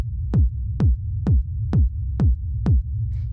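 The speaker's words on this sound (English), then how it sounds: "the first sound we have here is the kick" Techno kick drum in 909 style, six evenly spaced booming hits with a sharp click and falling pitch, punchy and up close with nothing else playing.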